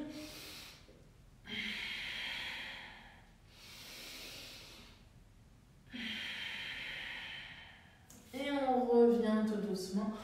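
Slow, deep breaths drawn in and let out during a vinyasa yoga class, three long airy inhale-exhale cycles close to the mic, followed by a voice.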